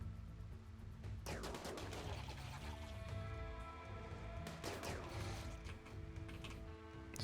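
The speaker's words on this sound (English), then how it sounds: "Good shooting." Gunfire in the colony game RimWorld, a dense mechanical clatter of rapid shots in two bursts over a continuous busy background, with honking animal-like noises mixed in, no talking.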